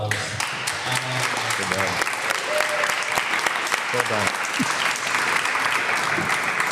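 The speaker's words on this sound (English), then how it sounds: "can we give a quick round of applause?" An event audience gives a quick round of applause: loud, dense clapping throughout, while nearby voices speak briefly over it.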